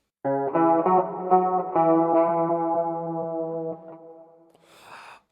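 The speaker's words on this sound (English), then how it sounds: "I added a guitar loop that I found that was pretty cool" A sustained electric guitar phrase drenched in chorus and distortion effects, layered and shimmering, ending with a brief airy swell.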